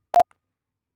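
A Morse code app sounds the letter E, a single very short beep tone, crisp and close, followed by silence.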